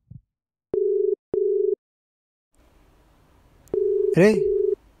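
A telephone busy tone sounds for an unanswered call: steady beeps in short repeated bursts, first alone in two bursts, then a third longer burst heard under a brief spoken word and background noise.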